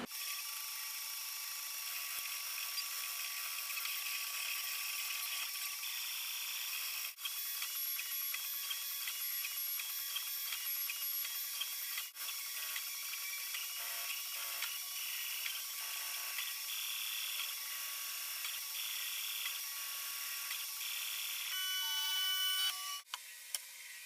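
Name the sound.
3D printer printing a quadcopter part, time lapse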